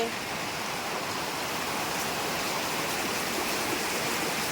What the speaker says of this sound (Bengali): ঘরের মধ্যেও জল পড়ছে এদিকেও জল পড়ে